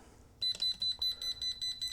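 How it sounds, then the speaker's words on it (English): A Pelsee 3500A jump starter sounds its reverse polarity warning with a rapid run of high electronic beeps in an even pulsing rhythm. The beeps are close and clear over a low background hum, and no one speaks. "it gives you a solid red light and an audible alarm that you've got it connected wrong"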